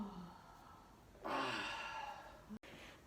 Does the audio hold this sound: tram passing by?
no